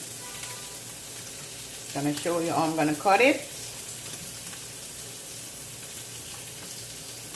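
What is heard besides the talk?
bacon frying in a pan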